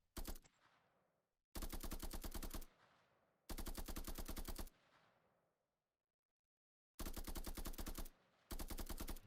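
Sustained automatic gunfire from a third-person shooter game built in Unreal Engine 5, loud rapid bursts with a steady rhythm, separated by pauses and a silent gap.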